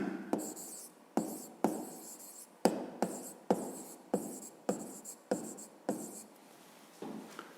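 Pen on paper writing out a math solution: close, quiet scratching in repeated short strokes, each starting with a light tap, about a dozen in a steady rhythm.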